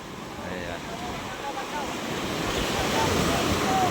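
Large ocean waves surge and crash near a seafood market shore, a steady building roar of surf that grows louder toward the end, mixed with wind.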